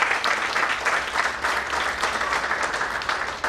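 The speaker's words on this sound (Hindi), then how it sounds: "आप लोगों की जबरदस्त तालियों के बीच" Audience applause filling the room as a preschool director is welcomed onto the stage at an event, dense steady clapping throughout, close and loud, with no speech over it.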